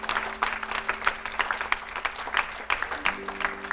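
A church congregation applauds Jesus during a prophetic worship broadcast, with uneven clapping and rhythmic bursts under a sustained tonal hum and scattered voices.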